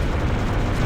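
A destroyed Nexus explodes in the strategy game Ashes of the Singularity, a loud, dense rumbling blast that rolls on without a break for about a second.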